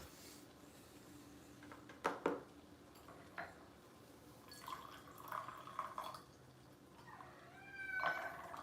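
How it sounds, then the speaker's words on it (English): A house cat meows at a closed door, wanting to be let into the room. A few short calls, then a longer drawn-out meow near the end, heard close over quiet room tone with no talking. "I think my kitty wants to get in,"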